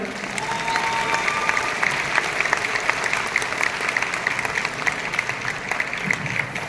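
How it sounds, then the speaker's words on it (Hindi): Sustained applause from an audience at an indoor business seminar, steady dense clapping throughout, moderately loud and even, with no break. "और तालियां बजाते रहो यार"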